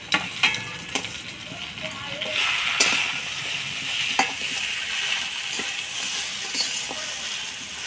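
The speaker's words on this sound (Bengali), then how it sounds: "ভাজা মাছের মুড়াগুলা দিয়ে ভালো করে চালের সাথে নাড়িয়ে নিলাম" Fried fish heads stirred with rice, spices and fried potatoes in a pan for muri ghonto, giving a steady close sizzle with repeated spatula scrapes and clacks against the pan, and some talk in the background.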